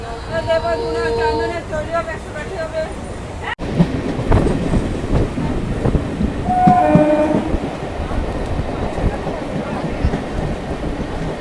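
A Bardhaman–Howrah chord line train rumbles along steadily, arriving at Dankuni, with rhythmic clatter of wheels on track, and a horn sounds early on, loud and close throughout.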